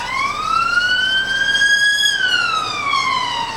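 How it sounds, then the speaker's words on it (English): A police car siren wails past on a quiet street, its pitch sweeping up and then falling away as it passes, loud and clear with no talk over it. "we've got the police coming past"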